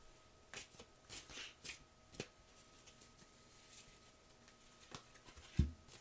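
Tarot cards shuffled by hand in a quiet room, a scattered series of soft riffles and brushing flicks over faint background hiss, ending with one sharper tap.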